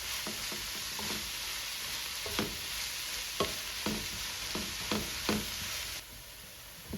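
A collard greens and black-eyed pea mixture cooking down in a pan, a quiet steady sizzle with a series of distinct spatula scrapes and taps, close-miked, with the hiss dropping away near the end and no speech.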